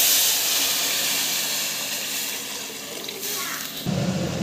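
Water poured into a pan of nuts sautéing on a stove, giving a steady hissing sizzle with a faint watery rush, close and fairly loud, that shifts to a fuller bubbling near the end.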